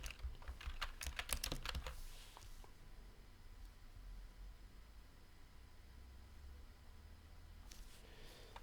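Fingers tap quickly on a computer keyboard in a brief flurry of clicks at the start, followed by a long quiet stretch with a few faint keystrokes near the end.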